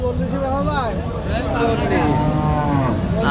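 A cow at a busy cattle market gives a long, loud, wavering moo close by, over a steady murmur of crowd noise.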